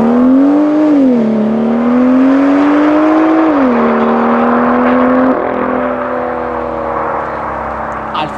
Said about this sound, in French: Elle fait quand même un très beau bruit cette ligne d'échappement, mais ça manque de pétarade.